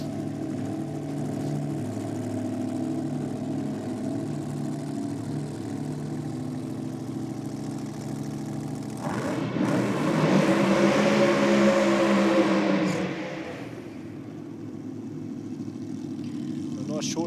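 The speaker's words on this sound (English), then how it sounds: "A nice short, sharp burnout there from John Willard to warm those rear tyres up." A drag car at an NSW Championship Series drag racing round does a short, sharp burnout to warm its rear tyres, a roaring engine swell of a few seconds rising over a steady engine drone, under a commentator talking.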